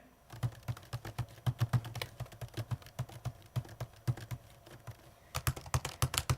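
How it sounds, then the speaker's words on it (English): Rapid clacking keystrokes on a 16-inch MacBook Pro laptop keyboard, close up, in quick uneven bursts with a brief pause before another flurry of typing. "So we'll do a clack test right now."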